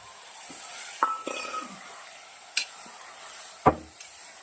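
Peas tumble into roasted tomatoes in a pan, a soft continuous sizzle broken by a few stirring scrapes and sharp utensil clinks against the pan.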